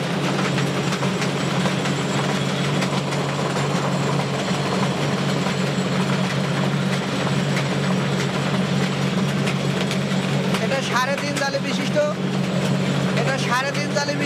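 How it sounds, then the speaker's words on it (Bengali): A rice hulling mill with three and a half screens runs at full speed. It gives a loud, steady mechanical roar with a deep rumble and rattling throughout, and a few brief higher squeaks near the end. "এটা সাড়ে তিন জালি বিশিষ্ট একটা রাইস মিল।"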